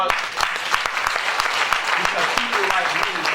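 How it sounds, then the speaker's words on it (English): Steady, loud applause from a crowd, dense clapping filling the whole stretch with no pauses. "give yourselves a round of applause"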